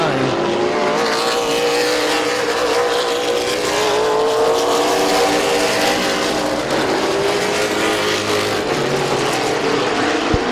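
Race cars at Midvale Speedway roar around the track in a continuous loud engine drone with shifting pitch as cars pass, while a commentator talks over it.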